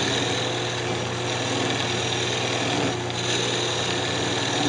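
A redwood Christmas ornament turns on a wood lathe while a tool back-cuts it, giving a steady droning motor hum with a constant mid-range whir and no talking.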